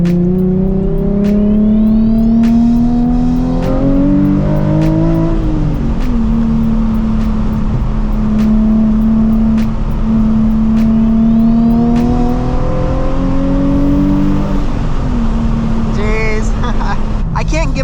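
A project car's engine hums steadily up close, revving and shifting pitch as it accelerates along the road onto a freeway, with constant road noise underneath.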